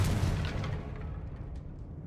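A Confringo blasting spell explodes in Hogwarts Legacy, a heavy broadband boom that hits at full strength right away and then rumbles and decays slowly over about two seconds.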